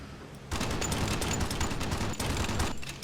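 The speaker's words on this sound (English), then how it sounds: "I'll just put some more 50 cal into him from the waist section." Waist-mounted .50 caliber machine guns on a B-17 bomber in a World War II flight combat game fire sustained loud bursts, with a rapid continuous rattle beginning abruptly after a brief quiet start.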